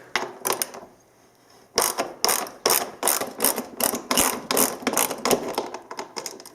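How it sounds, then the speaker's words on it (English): A wrench ratchets and clicks while loosening the bolt that holds the exhaust can on a dirt bike, fitted with a LEXX MXe exhaust. Rapid close metallic clicks come in bursts after a brief pause, with no talking. "Then you can pull the bolt holding your can."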